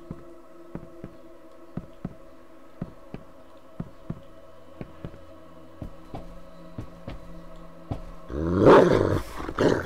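A dog growls in the horror video game Layers of Fear, a low rumbling snarl that bursts out loudly near the end after a series of evenly spaced soft thuds and faint ambient game tones.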